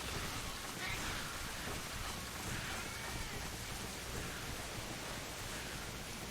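Rain in the video game Monster Hunter Frontier Z, a dense, even hiss of falling water that holds steady throughout with no breaks or voices.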